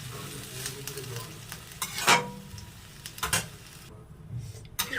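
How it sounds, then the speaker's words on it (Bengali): Water and ground spice paste go into a hot pan for shukto and hiss loudly, with soft stirring scrapes and a few sharp bursts of sizzle. "আর দিয়ে দেবো জল, মশলা বাটা জলটা আছে ওটা দিয়ে দেবো।"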